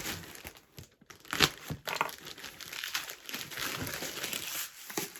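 Packaging from a lost parcel crinkles and tears as it is opened by hand, a close, irregular run of rustling and crackling with a few sharper crackles.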